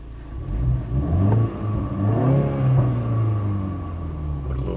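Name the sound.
2019 BMW 330i exhaust revving in sport mode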